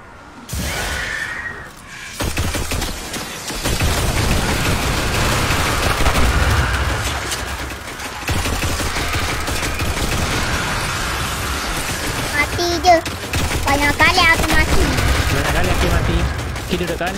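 Rapid gunfire and explosive bursts from a shooter video game fill the scene almost continuously, loud and dense, with players talking over the shooting.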